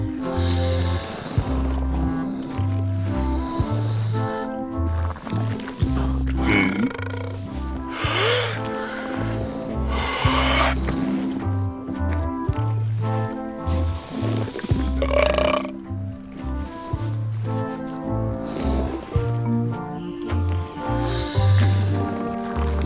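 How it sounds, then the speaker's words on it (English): A burping contest in Return to Monkey Island, with long, loud, drawn-out belches from rival characters, one after another over a bouncy musical backing. "how about a burping contest?"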